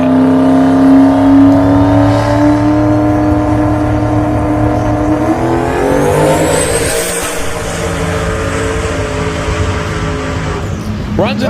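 Drag racing car roaring down the strip on a test hit, a loud sustained engine note climbing in pitch through the gears, then fading as it pulls away.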